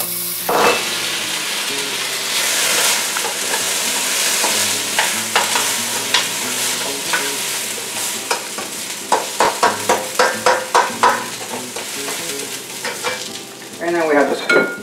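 Peppers and tomato sauce sizzle in a pan with squid rice, a steady hiss broken by a run of sharp scraping stirs in the second half, with no one talking.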